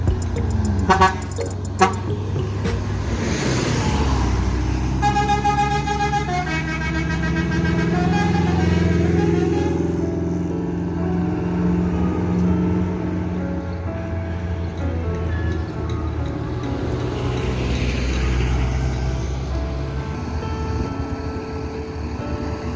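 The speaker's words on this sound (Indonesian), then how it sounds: "Ini bus ANS Johnny Walker yang ke-7 masuk Terminal Baris Solok." ANS Johnnie Walker bus pulling into Solok bus terminal, loud horn toots at the start, then a rumbling diesel engine and passing traffic as the bus rolls in, with another horn blast near the end.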